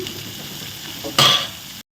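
Onions sautéing in oil in a pan, a steady close sizzle with one brief louder burst of scraping as they are stirred, ending abruptly in silence.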